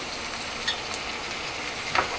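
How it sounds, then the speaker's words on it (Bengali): Ginger and garlic paste frying in oil in a pan, a moderate continuous sizzle with occasional stirring clicks and scrapes, and no talking. "এটাকে এখন এই তেলের সঙ্গে একটু নেড়ে চেড়ে ভেজে নেব"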